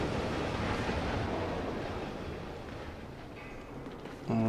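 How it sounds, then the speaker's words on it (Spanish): Water rises in a murky pool in the puzzle game Limbo, a steady rushing, washing noise that slowly fades, then a low tonal hum cuts in at the very end. "A ver que sube el agua para yo poder pasar."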